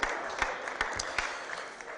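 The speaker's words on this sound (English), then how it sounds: "Let's give Reverend John Watson a big round of applause" Modest applause from attendees at a Board of Aldermen meeting after a reverend leads the opening prayer, a dense even patter with a few sharper claps standing out, moderately quiet and brief.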